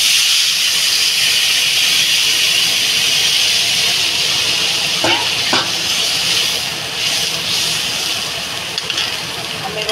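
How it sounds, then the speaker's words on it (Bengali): Water poured into a sizzling fish curry in a home kitchen, raising a loud, steady steam hiss and frying crackle that runs nearly unbroken for the whole stretch, with a couple of brief sharper clatters midway. "আমি এবার জল দিয়ে দেবো।"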